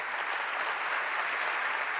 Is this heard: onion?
no